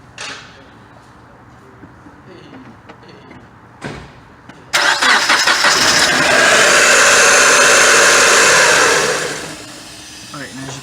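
A car engine cranks and starts during an ignition spark test, preceded by a couple of brief clunks, then roars loudly and runs steadily for several seconds before dropping to a quieter idle.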